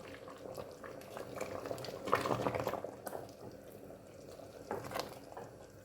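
Uziza leaf soup boils in a pot, a close, steady bubbling and gurgling with occasional louder pops and stirring sounds, no voices.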